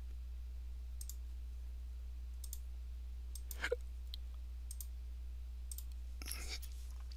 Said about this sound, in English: Click.